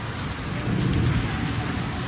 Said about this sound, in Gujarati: સારો આવી ગયો જુનાગઢનો વરસાદ.